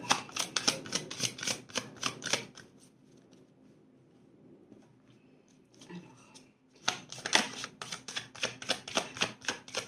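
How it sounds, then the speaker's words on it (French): Tarot cards being shuffled by hand in quick riffling bursts, a pause of quieter handling in the middle, then another run of brisk, close, crisp card flicks. "j'ai oublié de mélanger les cartes"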